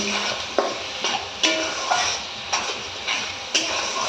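Spice masala for Bengali chicken kasa fries in a pan under a steady sizzle, with a spoon scraping and tapping the pan in a regular rhythm about every half second, close and clear.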